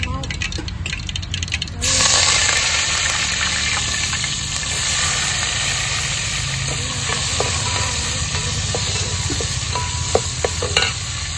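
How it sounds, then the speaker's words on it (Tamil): Cumin, mustard seeds and fenugreek crackle and sizzle in hot oil in a roadside cooking pot, a loud steady hiss that rises sharply after a short lead-in, with scattered pops and spoon scrapes. "ஜீரகம் கடுகு போட்டுறீங்க வெந்தயம் போட்டுறீங்க"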